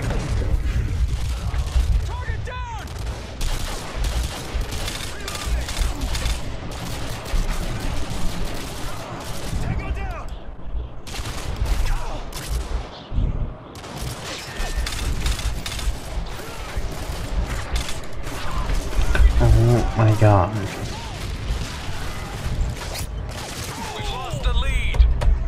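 Modern Warfare 2 gunfire rattles continuously in a team deathmatch: dense bursts of shots, booms and clattering, loud and close throughout, with a player's voice talking over it.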